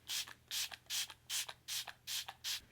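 Seven quick, evenly spaced hissing spritzes from a mist spray bottle of face primer water, soft and close, each a short airy burst with a faint click between.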